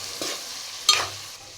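A spoon stirs chilli powder into a cauliflower and dried prawn curry in a pan: two brief scraping strokes over a soft, steady sizzle, close and moderately loud.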